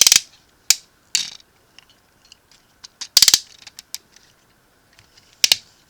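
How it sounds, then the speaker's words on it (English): Ratchet joints on the legs of a Transformers Commander Class SkyLynx toy give sharp plastic clicks, heard as several separate bursts and a quick double-click cluster, close and crisp with quiet gaps between them. "nice ratchet joints. Straighten out the legs however you wish to make them stand."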